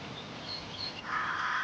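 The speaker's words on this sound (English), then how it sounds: "These crows are not about to stay and pick a fight." Crows caw amid a noisy outdoor background near a golden eagle, their harsh calls growing louder and more sustained toward the end.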